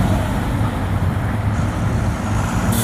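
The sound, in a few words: dump truck driving away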